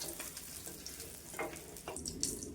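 Large puti fish frying in oil, a soft, fairly quiet crackling sizzle with occasional sharper spits and stirring touches, no speech over it.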